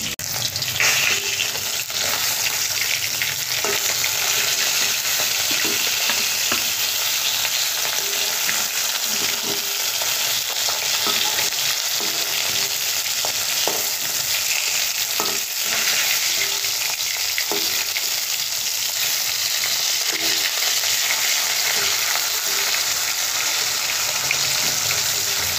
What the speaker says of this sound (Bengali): আমার হাতে এক সাইডে ভাজা হয়ে আছে পটল আর এই ধারে হচ্ছে চিংড়ি